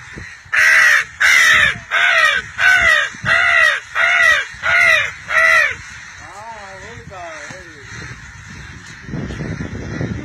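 A man imitates a crow with a run of seven loud, evenly spaced caws, followed by softer warbling calls and a brief rustle at the end.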